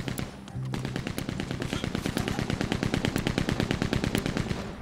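Rapid automatic gunfire from a Red Dead Online shootout at Fort Mercer, a dense, steady rattle of repeated shots running the whole time, loud and close, with no talking.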